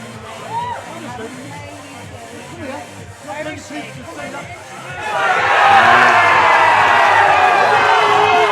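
A cue sports crowd at a match between Craig Lakin and Michael Tomlinson bursts into loud, sustained cheering and whooping that swells and holds, following a stretch of murmuring chatter and commentary.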